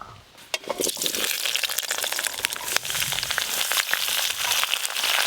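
Bottle gourd greens with potato and eggplant are stirred in a pan: a close, crackling sizzle with irregular sharp clicks and scrapes from the stirring, steady throughout and without talk.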